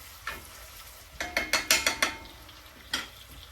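A Harry Potter novelty spoon stirs food in a pan, giving a run of quick scraping, clicking strokes in a close burst, with a softer stroke before and another after, all over a faint sizzle.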